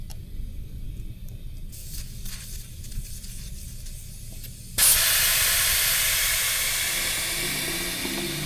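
Loud, steady air hiss bursts out and holds as a 4WD tyre is deflated for beach sand driving, following a stretch of quieter outdoor ambience.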